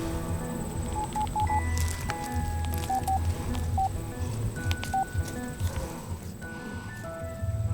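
A family farmer's flip phone sounds a series of short keypad dialing tones, some in quick pairs, over low background rumble and clatter.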